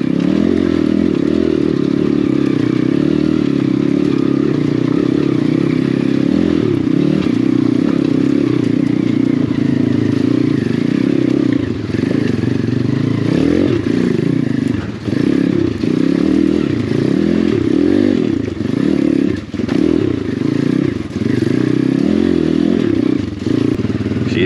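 A cheap $1000 Amazon dirt bike rides off-road up rough trails into Tugwell Lake, its engine droning steadily and loud while bursts of revving and the clatter and scrape of rough terrain ride on top.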